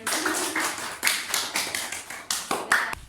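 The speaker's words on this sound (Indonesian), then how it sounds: "Betul sekali, tepuk tangan lagi." Fourth-grade pupils in an Indonesian classroom clap together in a quick patterned rhythm, a string of sharp, close claps at uneven spacing that lasts about three seconds.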